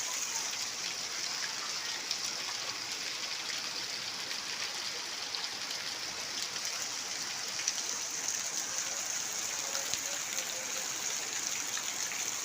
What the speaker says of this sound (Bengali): প্রচুর পরিমাণে জল জমে গেছে এখানে উড়িয়ে জল উড়িয়ে বৃষ্টি হচ্ছে রে কি বৃষ্টি